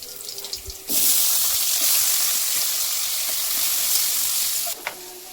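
Potatoes dropped into hot oil with frying garlic in a kadai, a sudden loud sizzle that bursts in after a quiet moment, roars steadily for about four seconds, then cuts off.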